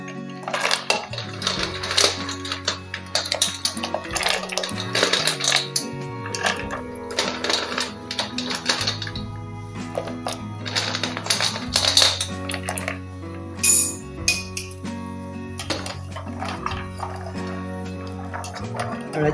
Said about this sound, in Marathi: हळद चमच्याने छान हलवून घ्यायची, म्हणजे हळदीवरची सगळी धुणं निघून जाते.